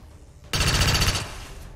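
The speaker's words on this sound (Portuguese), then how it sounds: "Vou dar um tiro nesse cara aqui, né?" A gunshot goes off in XCOM 2: War of the Chosen, a single loud burst that cuts in after a quiet moment, holds for about half a second, then rings out and fades.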